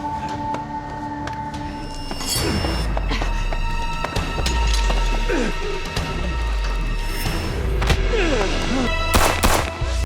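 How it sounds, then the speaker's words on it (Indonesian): Several sharp gunshot bursts crack out over a loud, rumbling action film soundtrack with heavy low booms, scattered impacts and brief voices. "ereka semua berhasil untuk membunuh Bing Wen dengan 2 buah tembakan yang tepat mengenai kepalanya"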